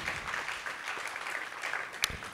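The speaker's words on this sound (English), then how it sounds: "a round of applause, please" An audience applauds a school debate result between Malindi High and Kijiwetanga Secondary, a steady spread of clapping at moderate loudness with one sharper clap standing out near the end.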